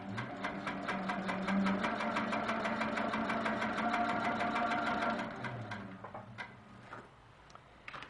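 A sewing machine stitching a quilt runs in a fast, even rhythm of rapid needle strokes for about five seconds, then slows and stops, leaving a few scattered clicks and taps.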